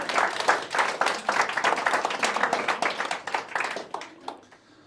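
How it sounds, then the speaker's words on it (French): Audience at a comedy show in a Namur café claps and applauds, a dense burst of many hands that starts strong, holds steady, then thins out and fades near the end. "un applaudissement pour mesdemoiselles"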